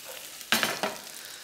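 Gnocchi in a pecorino cream sauce is tossed in a hot pan, two quick close swishes of sizzling and stirring within a second and a half, with no talk.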